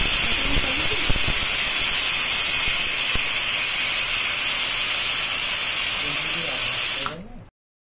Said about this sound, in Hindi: हमने अपने कुकर का प्रेशर रिलीज़ कर दिया है